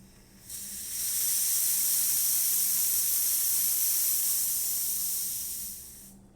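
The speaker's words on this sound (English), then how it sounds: "I'll show you the steam as well" A La Pavoni espresso machine's steam wand, freshly serviced, lets out a steady, loud hiss for about six seconds that starts and cuts off abruptly, with no voices over it.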